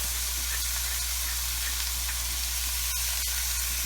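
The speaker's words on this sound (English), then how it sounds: "And we're going to saute these for a while." Chicken pieces sizzle steadily in hot olive oil in a pan, a constant frying crackle with a couple of faint clicks and no talking.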